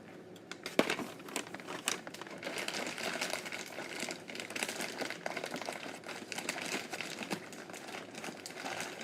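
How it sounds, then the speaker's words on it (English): Plastic bags crinkle and rustle as they are pulled from a bunch in a kitchen, a continuous close crackling with irregular sharper bursts, steady throughout without speech. "I'm trying to pull out one plastic bag and like all of them are coming out."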